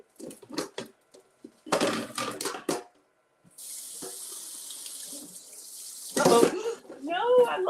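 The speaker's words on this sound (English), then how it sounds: "let's go ahead and give this a good rinse" Rice being rinsed in a colander under a running kitchen tap: a steady broadband rush of water lasting a few seconds, with someone talking before and after it and over its end.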